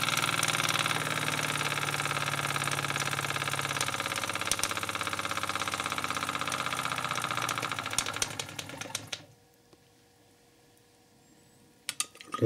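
A KMV overhead flywheel engine runs at full throttle with a loud, steady, rapid mechanical chug for about nine seconds, then cuts out abruptly into near silence, followed by a brief knock near the end.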